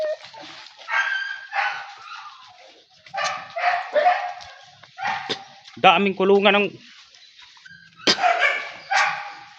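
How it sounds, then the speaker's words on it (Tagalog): Many dogs kept in rows of kennel cages bark and yelp in repeated loud bursts, a burst of overlapping close barks in the middle, with someone talking over and between them. "Grabe ng mga aso nito, dami."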